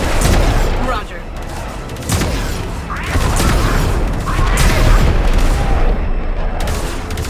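Railjack gunners in Warframe fire at enemy fighters in a dense, near-continuous barrage of loud gunfire and booming impacts, which dips briefly and then returns in heavy bursts.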